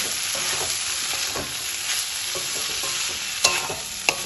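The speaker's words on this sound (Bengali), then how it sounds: "সবকিছু এবার তেলের সাথে ভালোভাবে কষিয়ে নেব।" Potatoes and spices (salt, cumin, coriander and chili powder) frying in oil in a wok for egg and potato chorchori, a loud continuous sizzle with the scrape of a spatula turning them and two sharp clinks near the end.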